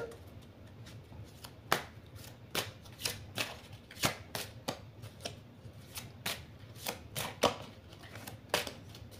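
Oracle cards are handled and swapped at a reading, a faint, close series of crisp card flicks and slaps coming in irregular bursts, with no talking.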